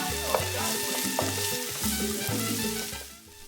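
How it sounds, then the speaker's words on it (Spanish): Onion, peppers and cilantro frying in a pan for arroz con gandules, a steady close sizzle with brief stirring scrapes throughout and no talk. "llegó el turno de la cebolla, los pimientos y el cilantro y los vamos a dejar también cocinar por unos minutos"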